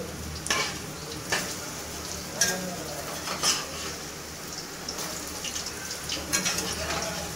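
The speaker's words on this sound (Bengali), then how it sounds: "তো দুর্দান্তভাবে ভেজে নেওয়া হচ্ছে, দেখতে পাচ্ছেন বন্ধুরা" Cabbage fritters deep frying in hot oil give a steady close sizzle, with a few louder bursts and utensil clinks as they are turned.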